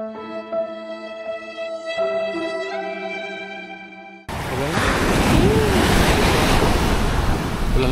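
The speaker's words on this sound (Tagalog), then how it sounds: "Ang alon." Music with sustained tones plays first, then cuts abruptly to ocean surf at Crystal Beach Resort in Zambales: a loud, continuous wash of breaking waves with heavy wind rumble on the microphone.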